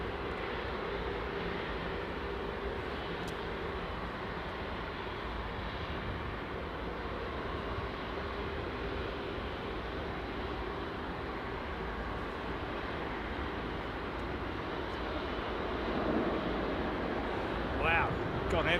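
An airliner landing at London Heathrow with heavy reverse thrust gives a steady, distant broadband roar that holds for the whole stretch and swells slightly near the end.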